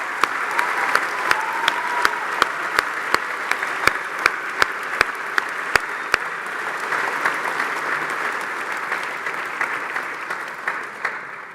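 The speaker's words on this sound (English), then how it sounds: "please give yourselves one final round of applause for getting through this" Graduates and audience at a London postgraduate graduation ceremony in 2022 give a sustained round of applause, steady crowd clapping with a few sharp, close claps standing out early before it gradually fades.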